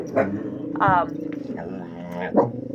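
Several puppy dogs barking and yipping in quick, loud bursts close by, with a voice talking between the barks.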